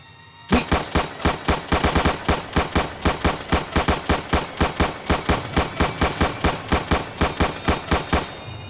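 Rapid automatic gunfire from the Minecraft Doctor Who mod fires in a loud, evenly spaced burst of about twenty-five sharp shots that runs for roughly eight seconds without a break.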